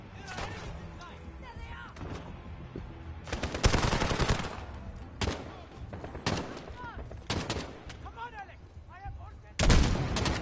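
Video game gunfire rings out in repeated bursts of loud shots and rapid automatic fire, scattered across several seconds, with a voice talking over the action.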